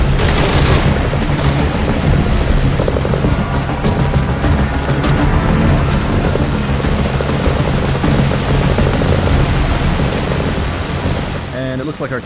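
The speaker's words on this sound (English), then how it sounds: "it looks like our chopper is going down" A helicopter's loud rotor thumps continuously up close in Metal Gear Solid V: Ground Zeroes, the chopper taking fire, mixed with bursts of gunfire and explosions, a voice talking over the din.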